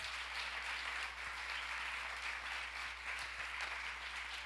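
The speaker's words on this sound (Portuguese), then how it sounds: "Dê um aplauso a Jesus." Steady, moderately distant applause from a church youth congress crowd, a dense wash of clapping sustained without pause.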